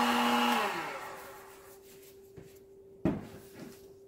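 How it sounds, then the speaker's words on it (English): A heat gun blowing on an acrylic paint pour roars briefly, then winds down to a low steady hum, followed by a couple of sharp knocks nearby. "I like the heat gun because I don't have to deal with the fuel or that you have to put into your heat torch"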